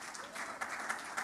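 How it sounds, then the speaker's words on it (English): Audience applause in a chapel convention hall, a steady wash of clapping at moderate distance with a few brighter swells, short and fairly soft. "Please, we can clap better."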